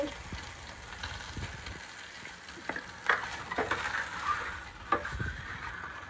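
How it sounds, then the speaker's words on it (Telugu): Eggs coated in masala fry in hot oil for a millet egg biryani, a low steady sizzle broken by a few sharper crackles and stirring knocks, close by and with no talk. "ఇప్పుడు ఈ మసాలా అంతా వాటికి బాగా పట్టేలాగా అంతా నీట్గా కలిపేసుకొని వీటిని ఫ్రై చేసుకోవాలి"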